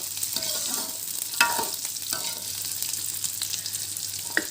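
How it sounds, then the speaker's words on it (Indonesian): Spice paste frying in a small amount of oil for a clear-broth beef soto, a steady close sizzle with scraping stir strokes and a couple of sharper clinks, no talking. "numisnya, gorengnya cukup seperti ini ya teman-teman"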